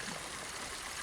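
Liquor poured into a glass during a casual drinking session among friends, a steady close trickling splash running continuously with no voices over it.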